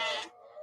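A lamb bleats once, a loud, close, wavering cry that fades into a softer trailing tail.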